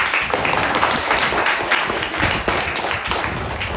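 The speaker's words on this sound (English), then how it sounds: "Clapping for Prasa." Applause from an online Sunday group-discussion class, a steady dense wash of many hands clapping at once, loud and unbroken for a few seconds with no talk over it.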